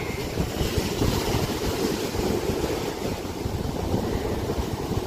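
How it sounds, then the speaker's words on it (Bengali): Big waves roar onto the beach at Chennai in a constant, loud, rumbling wash mixed with wind buffeting the microphone, with no voices. "অনেক অনেক ঢেউ, আর ঢেউর গর্জন সেটা তো আপনারা শুনতেই পাচ্ছেন, প্রচুর গর্জন ছিল ঢেউয়ের।"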